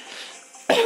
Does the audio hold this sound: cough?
yes